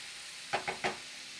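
Meat browning in a hot pan gives three short bursts of sizzle close together, each rising and fading quickly, with no voices.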